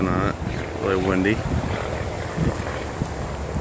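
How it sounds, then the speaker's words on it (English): Strong wind buffets a microphone outdoors in a garden of blooming orchids, a dense continuous rumble. Brief talk comes through over it. "Really windy."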